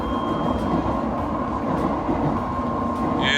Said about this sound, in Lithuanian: Ir 19:25 traukinys pajuda.